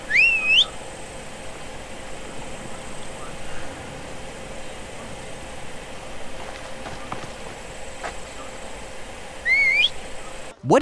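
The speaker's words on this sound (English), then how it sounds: "I don't think whistling is helping." A rising whistle sounds twice in a Spider-Man video game, once at the start and again near the end, each short and clear over a low, steady ambient hum with faint footsteps in between and no talking.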